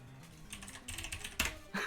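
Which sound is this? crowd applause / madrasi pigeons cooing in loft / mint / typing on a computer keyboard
typing on a computer keyboard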